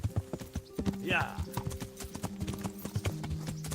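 Steady clip-clop of a ridden horse's hooves in Kingdom Come: Deliverance, close rhythmic beats with a brief whinny-like sweep early on and someone speaking over it.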